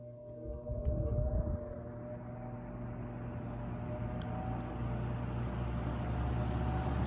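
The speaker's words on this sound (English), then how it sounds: "Let's move it over to this fan with a cool startup sound." An electric floor fan spins up from rest, its motor hum and whooshing air swelling steadily into a constant, fairly loud drone, with steady tonal whine throughout and no talking.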